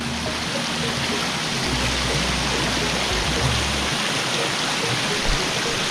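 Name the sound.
waterfall on a stream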